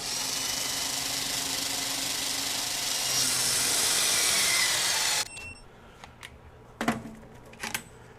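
A Ryobi 18V One+ compact impact wrench hammers a bolt at 400 foot-pounds with a loud, dense, continuous rattle for about five seconds, then stops, leaving a few sharp knocks and handling clicks.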